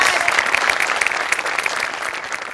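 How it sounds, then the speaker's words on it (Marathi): Studio audience on a Marathi comedy show claps together in dense, even applause that stays strong across the short stretch before easing slightly. "त्याकरता तुझ्यासाठी विशेष टाळ्या."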